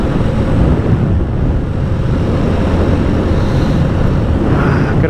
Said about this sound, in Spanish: está haciendo bastante viento